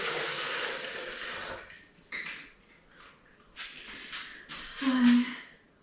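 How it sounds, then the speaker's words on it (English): Liquid pours into a big jug in a kitchen during mince pie baking, coming in short splashing bursts with faint clinks, close and moderately loud, with quiet gaps between pours. "Measure out how much liquid we've got in here."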